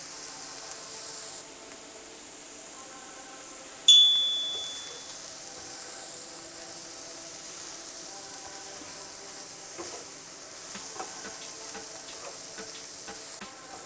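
Meat sizzles steadily in a pan, a soft continuous crackle and hiss that is turned over repeatedly, with one sharp metallic tap partway through and a few faint clinks later.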